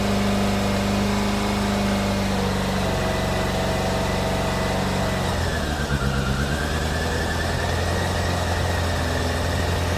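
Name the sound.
Suzuki Bandit 600cc motorcycle engine idling with choke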